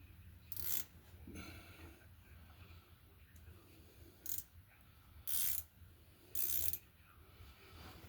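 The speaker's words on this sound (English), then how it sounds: "Just get your wrench set right now for tightening." A ratchet wrench tightens a motor support on a 15-year-old GE washing machine, giving four short bursts of rapid clicking spaced by quiet pauses, close and fairly faint.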